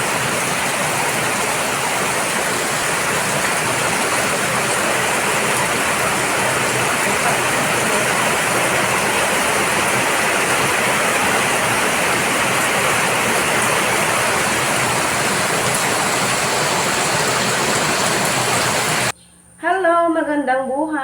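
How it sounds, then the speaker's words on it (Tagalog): Heavy rain pours down in a loud, unbroken hiss that lasts almost the whole time, then a short burst of talk breaks in near the end. "Nag-ulan na talaga. Ayan. Nakikita nyo yung ulan?"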